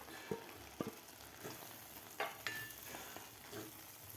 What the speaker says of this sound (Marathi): तोंडली घातल्यानंतर आपल्याला 1 मिनिटभर या मसाल्यामध्ये तोंडली व्यवस्थित परतून घ्यायचे आहेत